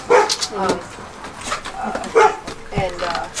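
A stray dog barks in short, close bursts mixed with whimpers, while people talk over it outdoors in a Detroit neighbourhood.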